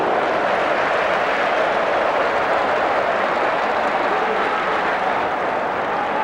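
Everton football fans cheering at a 1995 FA Cup match, a dense, loud crowd roar that holds steady without a break.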